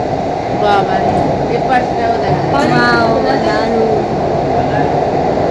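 A Kolkata metro train running through the tunnel beneath the Ganga between Dum Dum and Howrah, a loud, steady rumble and whine inside the carriage, with voices murmuring over it.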